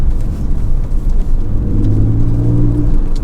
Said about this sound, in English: fitted prior to us getting the car in with the Miltech Super Cup exhaust that we always fit, and they make a great sound, as you can hear.